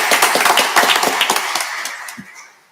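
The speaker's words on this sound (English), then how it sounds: "I want to give you a round of applause for the great work" Applause at a school board meeting: a loud, close burst of many hands clapping in quick, dense claps that thin out and fade over a few seconds.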